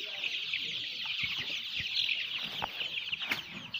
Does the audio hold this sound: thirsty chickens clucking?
yes